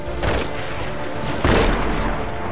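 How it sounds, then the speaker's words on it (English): Two heavy booming shotgun blasts in Destiny 2, about a second apart, each loud and close with a short rumbling decay. "I'll just shotgun you."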